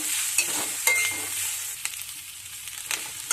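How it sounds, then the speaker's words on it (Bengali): Capsicum and onions are stirred in a frying pan: a steady hiss of sizzling oil with intermittent scraping and tapping of a spatula, close and without speech. "আবারও ভালোভাবে নেড়ে চেড়ে নেব।"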